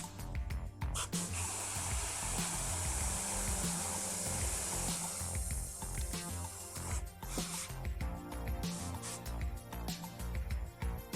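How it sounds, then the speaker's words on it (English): Airbrush spraying dark red paint, a steady hissing rush of air that runs continuously, then breaks into shorter bursts with brief pauses, close and fairly loud. "Anyone that doesn't do a lot of airbrushing, you'd be amazed how efficient it is with paint"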